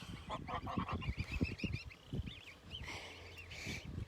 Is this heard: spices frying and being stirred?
no